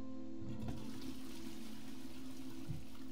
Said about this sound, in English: I've never flushed a fish down the toilet before